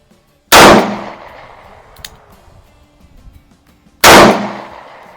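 A Smith & Wesson J-frame revolver (Model 36, 49 or 60) fires .38 Special rounds outdoors, two loud, sharp reports about three and a half seconds apart, each with a brief decaying echo, a faint click between.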